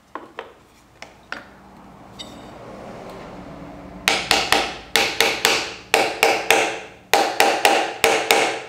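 Sharp taps on a through dovetail joint in wood, first a few sparse knocks, then rapid rhythmic clusters of loud, close hits with short decays.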